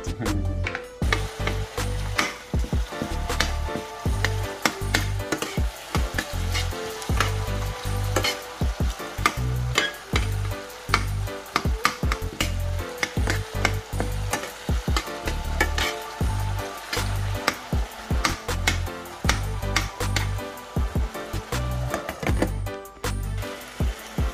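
A pot of hot pepper with onion and garlic cooks for Jamaican bully beef and rice, giving a loud, continuous crackling sizzle with rapid popping throughout and a steady low hum underneath, close to the source, no voices.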